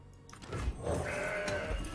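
A Mountain Goat card bleat from the Legends of Runeterra card game sounds out as one wavering goat-like cry at mid-clip, set against game music and a low background hum.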